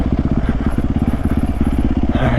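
A 450 dirt bike engine revs hard on a first off-road ride, a loud, close, throbbing pulse of rapid firing with a rough rising burst near the end.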